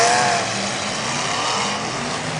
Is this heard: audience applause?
no